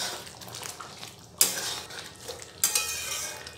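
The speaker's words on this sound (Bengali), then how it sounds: "এবারে একটু নেড়ে নেব।" Potato curry (aloo dum) with ghee and garam masala stirred in a pan, two sharp clinks of a spoon against the metal over a soft, low simmering hiss.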